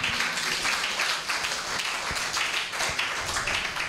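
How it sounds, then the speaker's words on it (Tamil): A church audience at a Tamil Catholic sermon claps together in a dense, continuous wash of applause lasting a few seconds, loud and close. "கைத்தட்டு."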